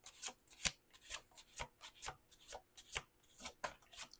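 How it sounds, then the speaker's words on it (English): Repeated riffle shuffling of tarot cards, crisp papery bursts coming in quick rhythmic bunches, close up, with no voices. "We're going to do two more shuffles."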